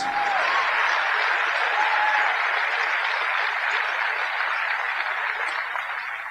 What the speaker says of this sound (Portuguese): Eu não sei porque vocês estão aplaudindo